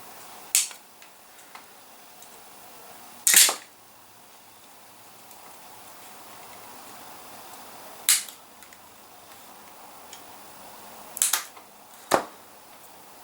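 Several sharp, isolated clicks of plastic model parts being nipped off sprues with snips for a Tamiya Grand Hauler RC truck kit, spaced irregularly with quiet gaps between them.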